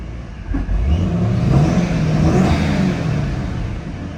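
A 2005 Ford Mustang GT engine revs up loud and close, holding a rising, sustained growl for about four seconds with no talking.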